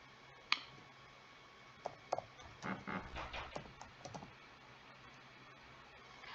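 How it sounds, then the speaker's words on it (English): Typing on a computer keyboard while entering a name into a parent school portal: a quick burst of light, close clicks and keystrokes over a quiet room hum, with no voices. "I just start typing the first name."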